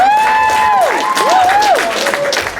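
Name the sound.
audience applause and cheering for Green Planet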